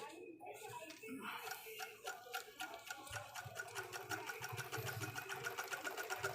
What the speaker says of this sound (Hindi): अब हम इसकी सिलाई लगा के चेक करते हैं